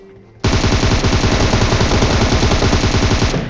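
Automatic gunfire in a battle royale video game firefight: a loud, sustained rapid burst of shots lasting about three seconds, erupting suddenly after a quiet moment.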